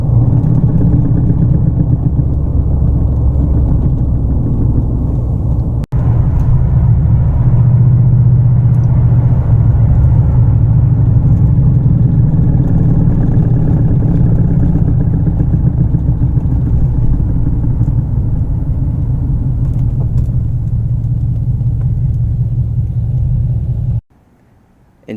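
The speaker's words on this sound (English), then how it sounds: "And the car's been heavily shuddering." A Mercedes with heavy brake shudder and a lit ABS light, driving along with a steady loud low rumble of engine and road noise that continues for about 24 seconds before cutting off abruptly.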